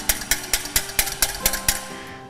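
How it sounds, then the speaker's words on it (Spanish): A hand whisk beats a mixture in a bowl as sugar is added, giving a quick, even series of about ten sharp clacks, close and alone. "voy a ir poniendo azúcar y a batir un poco"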